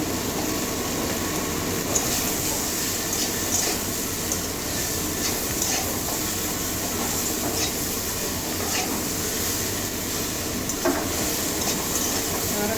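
Potato and pumpkin chunks stir-fried with salt in a pan, a steady scraping and sizzling texture running continuously throughout, with occasional sharper clinks of the spatula against the pan.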